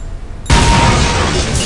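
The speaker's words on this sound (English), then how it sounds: "Pick up this high explosive grenade. Toss the grenade at the target to continue." A high-explosive grenade detonates at a target in Counter-Strike: Condition Zero, a sudden loud boom after a quiet moment, followed by a sustained, roaring blast tail that slowly fades.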